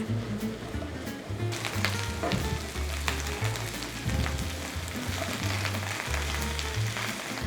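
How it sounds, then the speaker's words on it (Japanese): Eggplant and green peppers stir-frying in a large 26 cm frying pan with plenty of oil, a steady loud sizzle with repeated low scraping and tossing sounds throughout. "フライパンは大きめの26センチっていうフライパンを使って炒めていきます"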